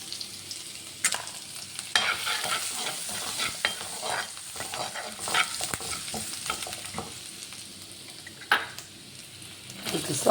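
Ginger and onion, along with dried shark, are stirred and fried in hot oil in a pan, giving a steady sizzle broken by scraping and clinking of a spatula against the pan over about ten seconds.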